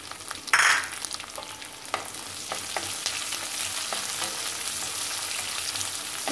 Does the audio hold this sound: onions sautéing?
yes